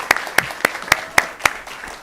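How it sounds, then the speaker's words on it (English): Applause at a school district board meeting, heard as about six sharp, evenly spaced claps in a steady rhythm that then stops. "I want to applaud the parents."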